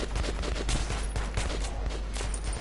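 Gunfire in the video game Metro 2033, a loud, dense burst of rapid shots rattling almost without pause, with no talking over it.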